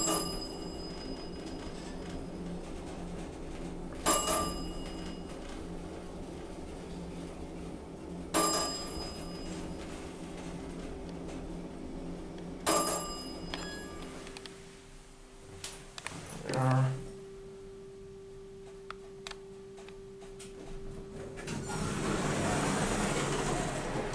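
A Montgomery hydraulic elevator rated for 2,500 pounds, in a Nordstrom parking garage at Fashion Centre at Pentagon City, travels downward with a steady low motor hum, periodic sharp clicks, and a rising broadband rush near the end.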